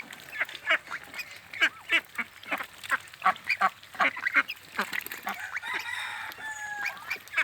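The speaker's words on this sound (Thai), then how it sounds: "ชุดเป็ดเราชุดเก่า" A flock of breeding ducks on a farm quacking continuously nearby, many overlapping calls in a busy, irregular chatter.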